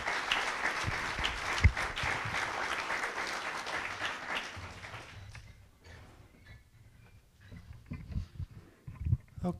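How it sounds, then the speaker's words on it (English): Luncheon guests at a chamber of commerce event clap for a speaker for about five seconds, then the applause dies away into quiet room noise and scattered bumps. "Let's have a great round of applause for Hurley"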